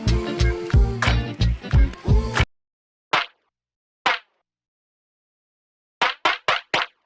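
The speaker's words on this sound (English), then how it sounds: "there's also a really nice compressed snare / clap" A recreated lo-fi compressed snare and clap drum sound, played first as a dense groove with other parts, then as isolated punchy hits, one, one, then four in quick succession, loud and dry.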